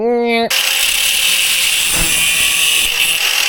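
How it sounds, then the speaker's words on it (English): An angle grinder cuts through a small metal fingerboard rail, opening with a brief rising whine and then a loud, continuous high-pitched grinding screech held close for the rest of the moment. "I'm gonna go through with the grinder"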